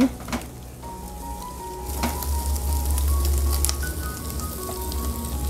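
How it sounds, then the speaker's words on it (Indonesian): Beaten eggs being scrambled in a hot pan with fragrant aromatics, giving a steady sizzle that swells louder partway through, broken by a few light clicks of stirring utensils. "bisa kita masukkan telur yang sudah kita kocok tadi ya. Kita orak-arik seperti ini."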